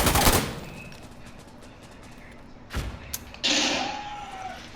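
A shotgun fires in the shooter game Insurgency: Sandstorm, with one loud blast at the start, a short thud later and a second sharp report near the end, all over low background game noise.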